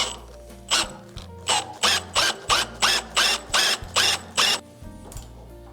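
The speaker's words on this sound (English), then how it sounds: "Hopefully I drilled that in the right spot because I can't get it out." A drill bores holes into a homemade desk in short, evenly spaced bursts, about eleven pulses in a row, close and loud with brief pauses between each.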